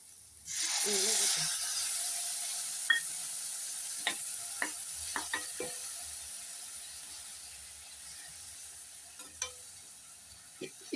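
Orange peel sautés in a hot pan with a steady sizzle, broken by scattered scraping clicks from stirring, close up and without talk.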